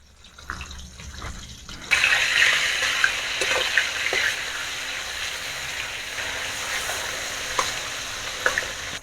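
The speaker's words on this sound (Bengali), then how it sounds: "এখানে তেলের মধ্যে আমি মাছ দিয়ে দিয়েছি। মাছটা যখন ভাজা হচ্ছে" Hilsa fish pieces hit hot oil in a pan, and a loud sizzling frying hiss rises suddenly after a quiet start, then crackles on steadily with scattered spits and pops.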